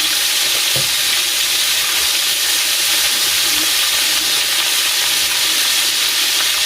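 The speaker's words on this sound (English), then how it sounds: "These are frying a little bit slower, so I turned it back up." Chicken livers sizzle steadily in a hot pan, a constant close hiss of frying with a few faint clinks.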